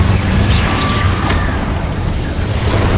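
A Confringo blasting spell bursts in Hogwarts Legacy, a loud, dense booming roar with a sharp crackling flare near the middle, sustained across the whole stretch amid continuous combat noise.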